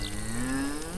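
A cow moos once in a long, low, sustained call beside a road in Inner Mongolia, close and clear with no talk.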